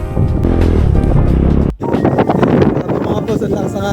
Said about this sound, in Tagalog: Mga boss, ang lakas ng hangin, no?